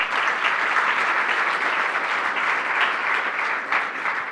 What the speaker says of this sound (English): How about a round of applause for those folks?